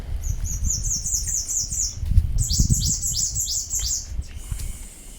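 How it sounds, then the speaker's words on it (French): Birds chirp and squawk in quick repeated bursts on La Soufrière, sheltered from the wind, over a low rumble of wind or ambient noise, with no one speaking. "ce qui nous permet d'entendre le chant des oiseaux"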